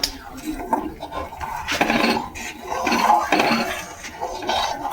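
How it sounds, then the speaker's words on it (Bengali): A spoon stirring milk with nakul dana sugar in a pot, heard as irregular scraping and clinking against the metal with a soft liquid swish, close by. "এইভাবে ঘেঁটে দিতে হবে যাতে লকুল দানাটা তাড়াতাড়ি গুলে যায়"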